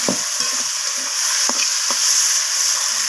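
Vegetables with coriander leaves fry in a pan, giving off a steady bright sizzle. A few distinct scraping knocks mark the spatula stirring. No voices can be heard.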